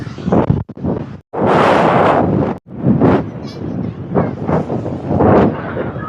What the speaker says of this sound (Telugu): అంత గట్టిగా వస్తుంది గాలి